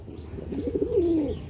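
A single close pigeon gives one short, warbling coo that rises and then slides down, with no talking over it.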